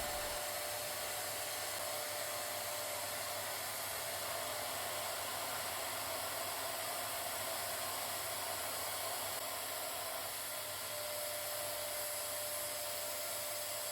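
A Eureka Forbes Ultimo 1400-watt wet and dry vacuum cleaner runs continuously with a brush attachment, a steady whining drone with an airy hiss at constant loudness throughout, with no talk.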